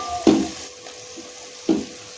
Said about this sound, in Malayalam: അരിഞ്ഞു വെച്ച ബാക്കി ചേരുവകളെല്ലാം അതിലേക്ക് ഇട്ട് ഇളക്കി കൊടുക്കുക